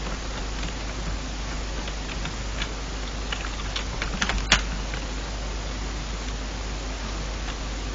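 Computer keyboard typing as scattered soft clicks over a steady background hiss, one sharper click near the middle, fairly quiet with no talk.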